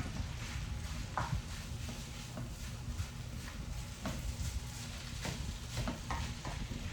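Rice and chicken stir fry with teriyaki sauce and garlic sizzling steadily in a pan, with a constant frying hiss and occasional scraping stirs at an even, close level.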